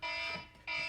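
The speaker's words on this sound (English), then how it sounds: "Shut up, alarm!" A looping electronic alarm in the video game Rain World, a loud steady buzzing tone that dips in the middle and then returns at full strength, heard alone.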